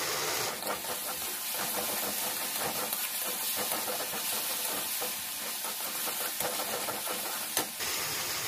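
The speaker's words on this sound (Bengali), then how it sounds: "মশলাটাকে ভালো করে কষিয়ে নেব।" Masala with tomato sautéing in a pan gives a steady, dense sizzling hiss throughout, close and continuous with faint stirring scrapes, no voices.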